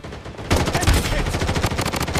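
Rapid automatic gunfire in a video game, a dense burst that breaks out after a brief quiet lead-in and keeps rattling loudly and steadily to the end.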